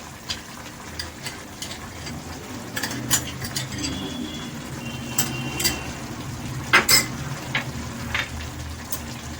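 Mixed vegetables with white mustard paste and green and red chillies being stirred in a frying pan: a steady, close sizzle with repeated scrapes and light clinks of a spatula against the pan.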